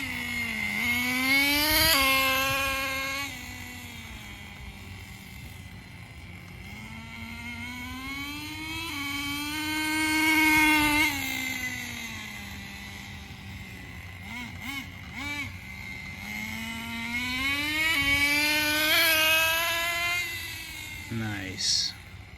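A Traxxas 4Tec RC car fitted with a new transmission clutch, running with a rough, harsh whine that rises and falls through repeated shifts as it accelerates and eases off, close up and steady throughout.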